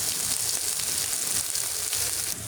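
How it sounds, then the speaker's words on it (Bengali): Potatoes frying in a pan, giving a steady, even sizzle with soft crackle throughout, close and moderately loud, with no talk. "এখানে আলুটা ভাজা হচ্ছে।"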